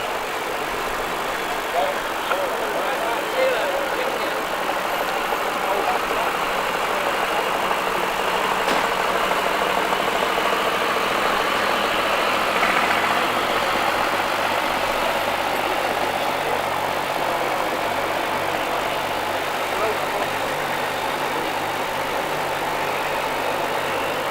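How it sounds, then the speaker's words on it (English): A Ford S20 eight-wheeled truck engine runs in a steady, continuous mid-pitched drone, with a voice talking over it throughout. "It's a Ford S20 8-wheeled truck, new to Brain Haulage in Grays, Essex"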